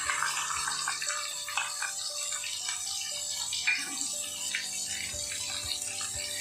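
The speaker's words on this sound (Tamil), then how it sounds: "தேவையான அளவு தண்ணி" Water poured steadily into a pot of cooked vegetables, yam, raw banana and ground coconut paste, a continuous close splashing stream with faint tonal ringing from the vessel throughout.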